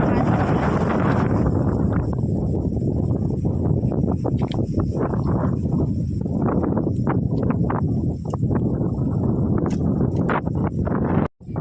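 Strong wind buffets the microphone outdoors in a farm field under a banyan tree, a constant rushing roar throughout, ending abruptly.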